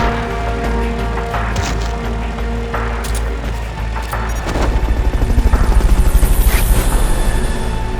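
A helicopter in the video game Metal Gear Solid Peace Walker drones with a loud, steady rotor thrum that grows into heavier, pulsing blade chops near the end, with no speech over it.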